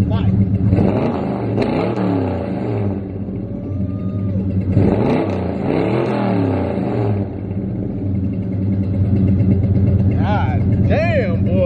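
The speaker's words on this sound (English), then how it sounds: "Let me give y'all a little throttle so y'all can hear this thing grunt, gang." A vehicle engine is revved in two loud throttle bursts that rise and settle into a rumbling idle, close by, with someone talking over and between the revs.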